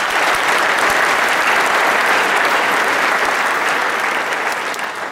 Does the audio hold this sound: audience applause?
yes